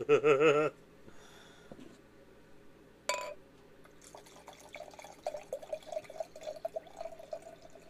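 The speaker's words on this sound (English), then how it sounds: "I get one more pour out of that, folks." Wine poured from a bottle, a short run of light trickling and dripping with a clink of glass, faint and close, after a brief tonal sound at the start.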